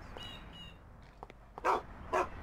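A dog barks in the video game Mafia, two sharp, loud barks near the end following a few faint yips and whimpers, with soft ambient game noise beneath.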